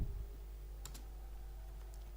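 Keys pressed on a computer keyboard during data entry in Tally Prime accounting software: a couple of soft, brief clicks, faint against a steady low electrical hum.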